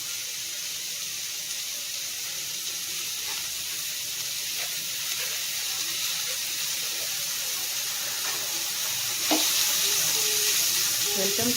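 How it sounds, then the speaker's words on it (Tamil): Onions sautéing in a pan, a steady, continuous sizzle and hiss that swells slightly near the end, with faint scattered clicks of stirring. "நல்லா வெங்காயம் வந்து நல்லா பச்சை வாசனை போகிற அளவுக்கு நல்லா வதங்கணும்"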